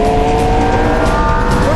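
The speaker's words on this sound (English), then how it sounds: "McLaren's got a couple of turbos pushing air into a V8 flat plane crank." A 2015 McLaren P1 with a twin-turbo flat-plane-crank V8 accelerates hard, its engine note loud, close and continuous, a rising drone with strong tonal harmonics throughout.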